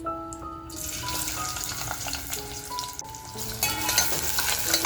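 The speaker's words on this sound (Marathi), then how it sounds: "आत्ता जो कांदा आपण कापून घेतला आहे तो कांदा टाकायचा आहे" Chopped onion drops into hot oil already holding cloves, cinnamon and bay leaf for mutton dal, giving a steady close sizzle and crackle with stirring, while faint musical tones play underneath.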